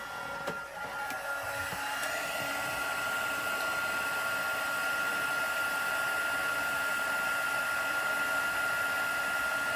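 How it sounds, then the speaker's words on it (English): A heat tool used on embossing powder during a craft: a steady, close blowing whir with a high whine, running continuously without pause. "then I'll bring in my heat tool and we can watch the magic happen"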